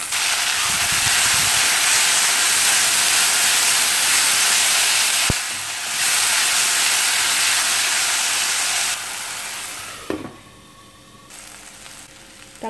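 Tomatoes with curry leaves sauté in a pan for potato kurma, making a loud, steady sizzle and hiss that eases off, then drops with a few utensil clinks toward the end.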